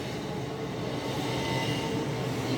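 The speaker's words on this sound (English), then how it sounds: "Train." Steady, loud rumbling of a moving train fills the whole stretch, a dense continuous roar of rail cars with no talking over it.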